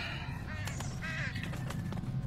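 Crow caws in the video game Condemned: Criminal Origins, several short harsh calls scattered across a couple of seconds over a low rumbling background, with no speech.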